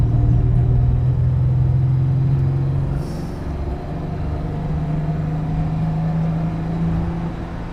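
Classic daily-driver car engine running rough and missing while driving, a loud steady low rumble and drone from inside the cabin with a slight shift in pitch midway, no voices.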